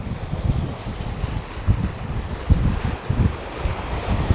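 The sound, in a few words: strong wind at lake beach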